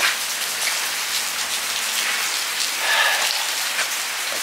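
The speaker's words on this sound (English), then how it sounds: "Stay out of the rain, man." Steady rain pours down outdoors in a continuous hiss, loud and close, swelling briefly midway, with no voices.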